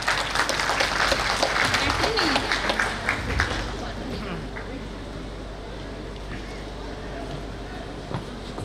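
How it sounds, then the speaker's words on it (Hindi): An audience at a corporate Diwali celebration claps loudly and densely for a CEO walking on stage, the applause gradually thinning and fading into crowd murmur and voices. "एक बार जोर से तालियां बजा दीजिए"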